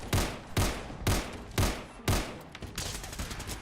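Rapid gunfire from the video game Fallout 4: five sharp, loud shots in an even rhythm about half a second apart, followed by a rougher burst of crackling noise.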